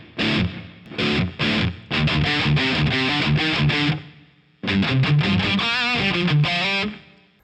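Distorted electric guitar through an EVH 5150 III 6L6 50-watt amp with reverb, loud chugging riffs and chords in bursts with a brief pause near the middle, reverb tails trailing each phrase.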